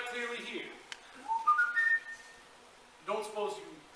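A person whistles a short tune in a high-school stage production of The Music Man, the notes rising in pitch, with speaking voices just before and after.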